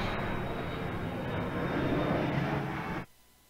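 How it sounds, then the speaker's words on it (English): An airplane passes overhead at an outdoor high school softball game, a steady broad engine roar that holds loud for about three seconds and then cuts off abruptly. "As a plane goes overhead."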